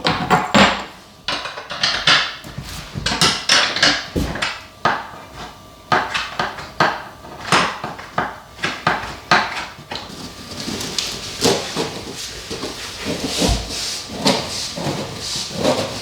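Broken plates and other crockery in an old village house being gathered up, with repeated clinks, scrapes and clatters of shards knocked together and set down, close and irregular over a quiet room.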